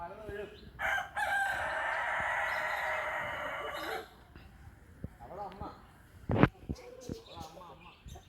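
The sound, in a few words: rooster crowing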